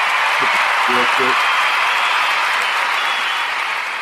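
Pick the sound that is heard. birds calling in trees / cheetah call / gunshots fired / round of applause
round of applause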